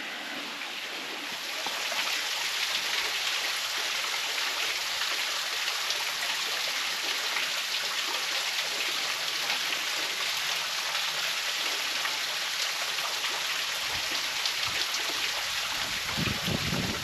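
Creek water flows in a steady, broad hiss and rush close by, continuous and unbroken.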